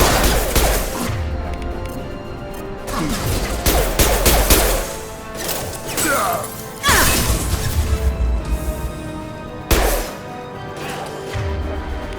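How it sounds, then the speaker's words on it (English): Combat in Mass Effect 2 on Omega, with the concussive shot ability fired during battle: loud crashing blasts and impacts land around four times, with rattling gunfire in between and short quieter gaps. "Firing concussive shot!"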